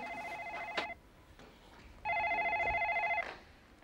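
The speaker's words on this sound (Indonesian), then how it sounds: "Mbak, telepon. Diangkat," A telephone rings in two electronic trilling bursts separated by a pause, fairly close and clear in a quiet room, with no talk over it.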